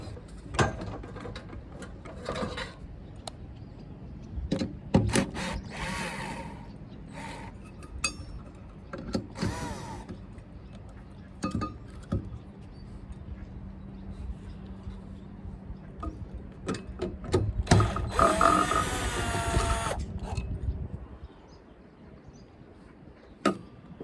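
Screws being backed out with a screw gun from old horns on a 1984 Chris-Craft Catalina 381 boat, with short ratcheting whirs, clicks and clunks of handling, then a longer drill run near the end.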